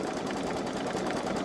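A Babylock Solaris 3 embroidery machine stitches steadily, a fast even mechanical whir and patter that holds constant throughout, close and clear with no voices.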